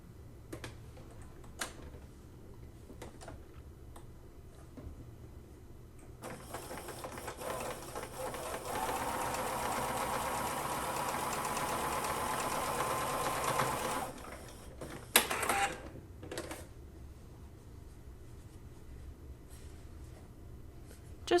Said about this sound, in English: just repeating the same process by sewing right down the middle of those squares